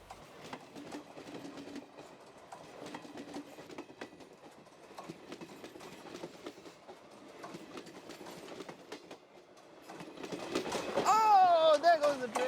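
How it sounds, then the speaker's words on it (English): A daily passenger train bound for Maklasskiganj passes with rhythmic clickety-clack of wheels over rail joints, growing louder toward the end with squealing wheels, and people talking faintly in the background. "The daily passenger train service to Maklasskiganj was approaching, so I got to record the train."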